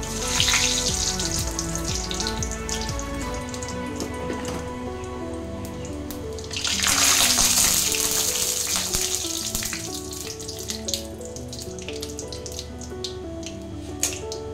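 Panch phoron spices and bay leaves dropped into hot oil, a dense, steady crackling sizzle that flares louder for a moment partway through, close and continuous over a faint background tone, with no talking.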